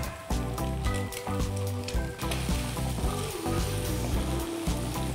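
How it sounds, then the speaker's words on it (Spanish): A couple of eggs fry scrambled-style in a pan, a close, continuous crackling sizzle with a few stirring scrapes, no one talking. "Vamos a freír aquí un par de huevos, como si fueran revueltos"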